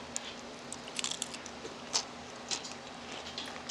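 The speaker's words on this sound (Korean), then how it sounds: "새우 먹어야지" Crunchy shrimp from a Chinese set meal being bitten and chewed, with faint, close crisp crunches and clicks repeating irregularly over a steady background hiss.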